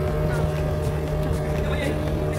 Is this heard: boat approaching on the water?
yes